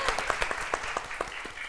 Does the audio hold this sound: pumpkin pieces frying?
no